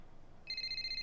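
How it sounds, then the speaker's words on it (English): An in-game telephone in F1 23 starts ringing, a bright electronic trill that begins partway through and holds steady, clear and fairly close. "here's the phone call"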